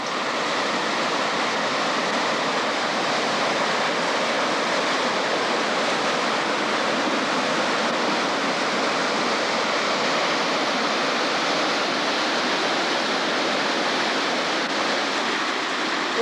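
Water rushes from opened mill canal gates into a river at Lime Valley Mill, carrying silt and mud; a loud, dense, unbroken roar holds steady throughout, close and constant.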